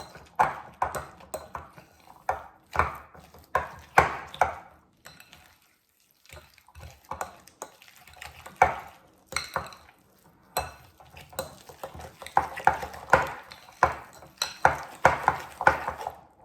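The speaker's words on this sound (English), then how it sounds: "And then you start mixing it." A spoon clinks and scrapes against a bowl as cheese donut (papanasi) dough with baking soda is mixed by hand, coming in irregular bursts of clatter with short quiet gaps.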